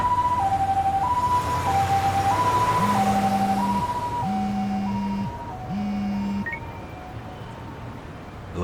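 An ambulance siren from the video game Lost Judgment wails in a steady two-tone pattern, fairly close and loud over low traffic rumble, and fades slightly toward the end.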